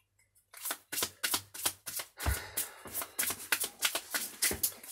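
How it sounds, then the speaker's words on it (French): A deck of cards being shuffled close up, a quick run of riffling bursts and snaps in steady rhythm after a near-silent start. "je mélange des cartes"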